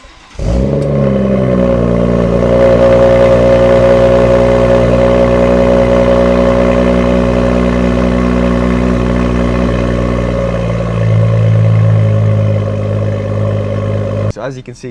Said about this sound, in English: the thing I did promise to show you guys was how the upgrade exhaust sounds